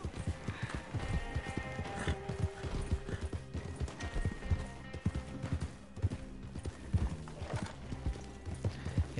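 Horse hooves clip-clop in a steady, rhythmic gallop in the Red Dead Online video game, loud and close throughout, with a brief whinny.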